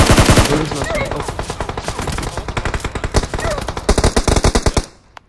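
Rapid automatic gunfire in PUBG Mobile during a competitive scrim, loud dense bursts of repeated shots running almost continuously before stopping abruptly near the end.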